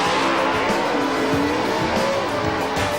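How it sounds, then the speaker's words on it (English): Pro Stock drag cars at a 1987 NHRA final round roar with a loud, sustained engine blare and rising whine, with a broad roaring wash throughout and no talking. "Racing against Leal in the final was Bruce Allen."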